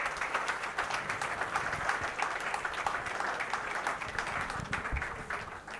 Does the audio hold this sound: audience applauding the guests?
yes